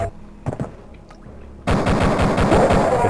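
Rapid gunfire from a first-person shooter, Duke Nukem, firing at aliens, bursting in loud and dense after a quieter stretch and continuing steadily to the end.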